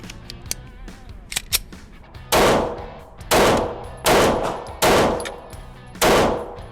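Smith & Wesson CSX pistol fires five loud, sharp shots at an outdoor shooting range, spaced about a second apart, each with a short echoing tail, following some faint clicks and handling noises.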